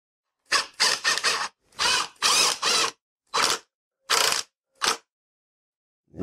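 Bolt being worked loose from a bike's front forks with a power driver or ratchet tool, in a series of short bursts of whirring and ratcheting separated by brief pauses, close and fairly loud with no talk.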